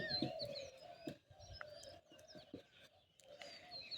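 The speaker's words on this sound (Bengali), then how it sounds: "খুব সুন্দর পাখির আওয়াজ শোনা যায়" Birds sing softly in the distance, with scattered chirps and whistles mixed with low cooing calls, fairly quiet and unhurried.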